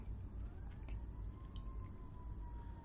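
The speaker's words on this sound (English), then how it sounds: "I apologize for the sirens in the background." A faint siren wails in the distance, a thin rising and falling tone over steady low background rumble.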